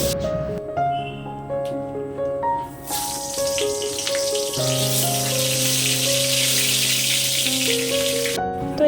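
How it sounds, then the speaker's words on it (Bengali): Vegetables frying one after another in hot oil for a Saraswati Puja meal give a steady, loud sizzling hiss that builds after the first few seconds, with tonal music playing underneath throughout. "এখানে আমি সব এক একে ভাজাগুলো ভেজে নিলাম"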